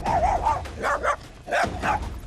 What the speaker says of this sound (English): barking at everybody, snarling